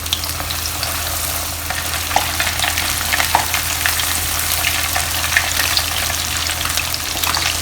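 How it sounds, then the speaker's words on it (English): Pork marinated in nam yu (red fermented bean curd) deep frying in hot oil in a wok, a steady, dense sizzle that continues throughout with small pops and crackles, close and fairly loud with no talking. "The first time when you deep fry this, do it on medium heat."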